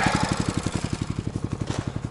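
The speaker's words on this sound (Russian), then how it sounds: "Пусть поработает двигатель." An engine idles steadily at a snowy abandoned forest hut, its fast even low chugging pulses running through the whole stretch, close and moderately loud, with no talk over it.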